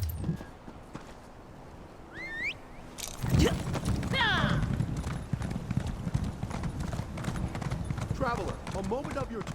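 Horse hooves clip-clop steadily at a walk in the Elder Scrolls Online game, with soft creaks and high chirps, while a voice talks over the trotting.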